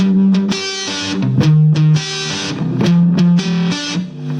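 Distorted electric guitar plays a song verse: loud, crunchy strummed chords with a low sustained note and rhythmic palm-muted breaks, no voices.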